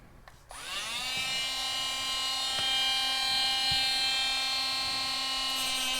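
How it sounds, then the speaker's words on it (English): A Dremel rotary tool spins up and then holds a steady, loud high-pitched whine while cutting, with a few faint ticks along the way and no talking. "now I can take my Dremel tool"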